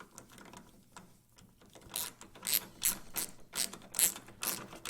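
A ratchet tightens bolts into plastic on a 2009–2014 Ford F150 headlight assembly, giving close, loud bursts of rapid clicking from about two seconds on, after a quieter start with no talk.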